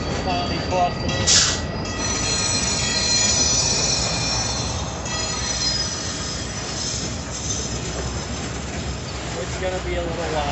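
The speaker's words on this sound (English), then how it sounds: "We have to wait for the train to finally cross through." A train rolls past close by at a railroad crossing, its wheels letting out high metallic squeals over a continuous rumble and rattle of passing cars.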